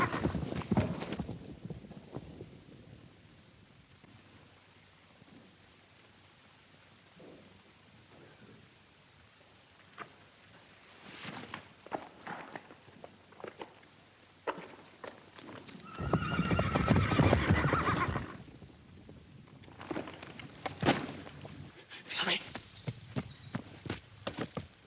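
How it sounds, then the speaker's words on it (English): Horses stampede nearby with scattered hoof clops, snorts and a loud burst of whinnying neighs midway, rising and falling in loudness against a quiet outdoor background. "Damn them horses. Stampeded again."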